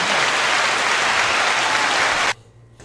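Studio audience applause on a hip-hop talk show panel, dense and loud clapping that holds steady and then cuts off abruptly near the end.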